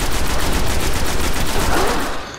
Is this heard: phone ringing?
no